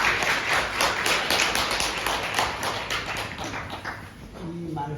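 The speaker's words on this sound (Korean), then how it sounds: "큰 박수로 모시겠습니다" Congregation at a Sunday worship service applauds to welcome a former church leader to the front, a sustained wash of many hands clapping with a voice speaking underneath near the end.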